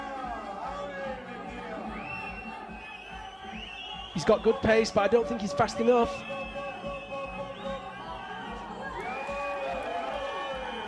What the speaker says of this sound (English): The crowd really getting behind him.